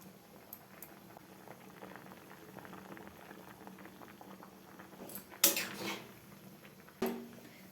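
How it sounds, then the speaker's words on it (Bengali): Papaya pieces simmer in a pot for homemade tutti frutti, giving a soft continuous bubbling and boil, interrupted near the end by a couple of louder clanks from a lid or utensil. "পেঁপেটা মোটামুটি খুব বেশি না, ওই 10 মিনিট মতো সেদ্ধ করে নিতে হবে।"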